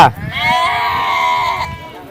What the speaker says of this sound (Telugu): నాకైతే ఈరోజు ఈ మేకపోతలు మాత్రమే కనబడ్డాయి